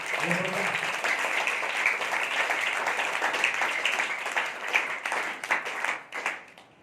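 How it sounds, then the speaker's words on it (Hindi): A church congregation claps for Jesus Christ during a Hindi sermon, dense continuous applause that starts under a brief voice, holds steady and then thins into scattered claps before fading out. "आइए एक जिंदा ताली यीशु मसीह के लिए बजाइए, जिंदा ताली।"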